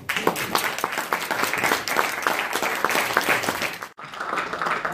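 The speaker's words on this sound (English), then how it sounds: "Another round of applause." A crowd applauding at a live-streamed public event with a congresswoman present, dense sustained clapping that fills the room, briefly dropping out near the end before resuming.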